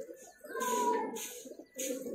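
A highflyer pigeon, a breed kept for long flights, coos softly at close range in a few short throaty bursts separated by brief pauses.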